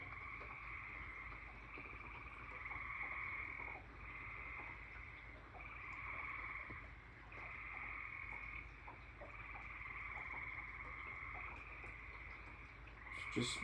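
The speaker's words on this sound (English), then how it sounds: "those tree frogs are so noisy." Tree frogs croak in a dense, pulsing chorus after a thunderstorm, their calls rising and falling in regular waves over a soft background hiss of light rain.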